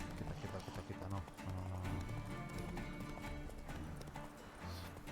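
Horse hooves clip-clopping at a run in The Witcher 3, a steady galloping rhythm beneath game music and commentary, with a brief whinny mixed in.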